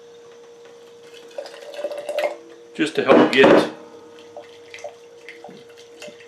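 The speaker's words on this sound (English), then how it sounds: "I got a little bit of hot water in my tea kettle here" Hot water splashes from a tea kettle into a molasses jar, a short burst of pouring and sloshing in the middle, close up, with someone talking before and around it.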